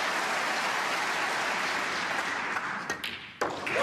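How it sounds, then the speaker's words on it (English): Crowd applause for Ali Carter's century clearance at the German Masters snooker final, a steady dense wash of clapping that holds loud throughout, then thins and breaks briefly near the end before resuming. "Many of the crowd on their feet to applaud Ali Carter"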